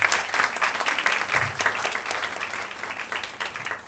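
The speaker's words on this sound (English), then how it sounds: "Please have a big round of applause" Steady applause from a crowd, many hands clapping continuously for a few seconds.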